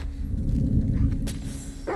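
Dog barking in The Last of Us Part II, a short yip-like bark rising near the end over a dense, rumbling game ambience.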